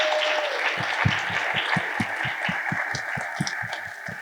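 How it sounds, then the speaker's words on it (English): Crowd at the BSides Tampa security conference opening gives a round of applause, a broad patter of clapping over a rhythmic low thumping beat, moderately loud throughout. "Just give yourself a round of applause"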